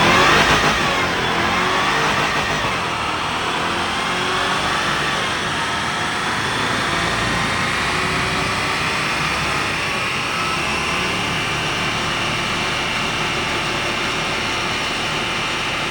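A Jaguar XJR engine on a dyno revs hard and holds at high RPM with a sustained, rising whine, loud and close, tapering slightly after the initial surge.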